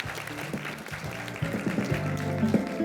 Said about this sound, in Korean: 정말 감사드리고 다시 한번 큰 박수 부탁드리겠습니다